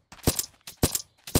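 Paintball markers fire in quick bursts on an outdoor field, sharp pops arriving in three tight clusters of two or three shots each, fairly close with short gaps between.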